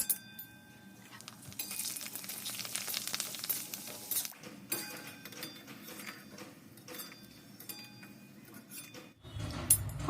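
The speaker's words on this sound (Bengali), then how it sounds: "তো পাঁপড় ভাজবো, এরপর এই যে এই পাঁপড়গুলো ভাজবো।" Papad fries in hot oil with a close, steady sizzle, joined by intermittent clinks of utensils and glass. Nobody is talking.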